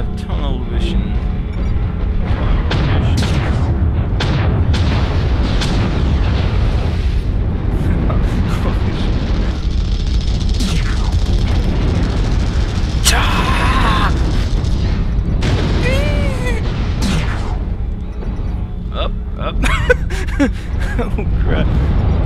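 Enemy fire and explosions rumble continuously in MechWarrior Online, with a Locust mech under attack; heavy low booms and weapon bursts fill the scene at high volume while someone talks over them.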